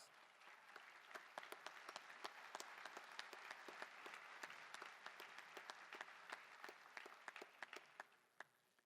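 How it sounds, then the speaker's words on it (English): Graduation audience applauding award recipients at a high school ceremony, a broad crackle of many hands clapping with scattered sharper claps, sustained and then tapering off at the close. "And let's give this year's recipients one final round of applause."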